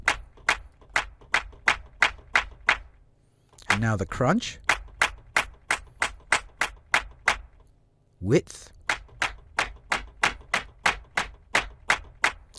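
A sampled drum-kit clap from an ambient wet kit, thickened with a fat dial, repeats in a steady loop of sharp, dry-edged hits, interrupted twice by someone briefly talking.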